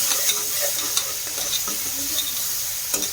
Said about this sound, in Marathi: टॅमॅटोही छान परतून घ्यायचे.